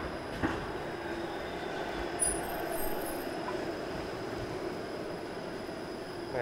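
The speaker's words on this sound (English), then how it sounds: "There's a Queen Street East streetcar, which has been diverted to King Street here." A Toronto streetcar rumbles past on King Street with steady low rolling noise and faint metallic clatter, a continuous street-level drone with no talking.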